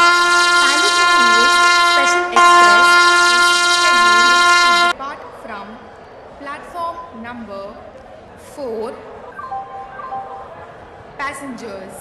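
A superfast express train arrives at a station platform, sounding a loud, sustained horn blast for about five seconds with one brief break, followed by quieter platform noise and voices.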